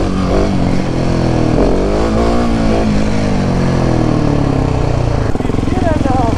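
Dirt motorcycle, a Husqvarna 701 or Beta RR 125, revving and accelerating nearby, with the engine note rising and falling continuously under someone talking over it throughout.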